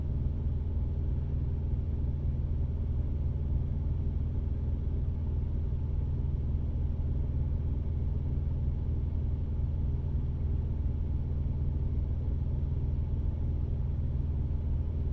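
A truck's auxiliary power unit runs with a steady, low rumbling drone that holds unchanged throughout, close and moderately loud.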